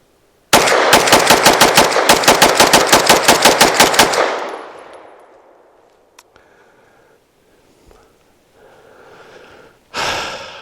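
A Bersa M2XI 9mm pistol fires a full magazine in one fast string of about twenty loud, evenly spaced shots lasting some four seconds, followed by fading echo, a few faint handling clicks and a brief rustle at the end.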